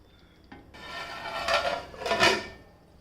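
Vegetable kofta curry stirred in a kadhai, a spoon scraping and rubbing against the pan in two louder strokes after a quieter start, close and alone.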